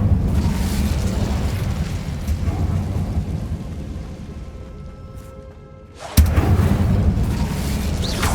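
An Incendio fire spell cast in Hogwarts Legacy, a deep rumbling roar that thins out and then returns as a sudden loud whoosh partway through.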